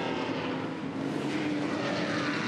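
At a Pukekohe muscle car race, a NASCAR-engined car makes a continuous, loud engine roar. It sounds steady and broadband, with no break in the noise and no voices.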